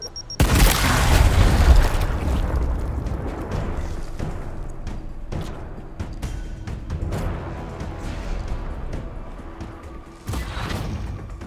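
A frag grenade detonates with a loud, close boom in the Gears Tactics video game, followed by a long rumbling decay with scattered debris clatter and a smaller thump near the end.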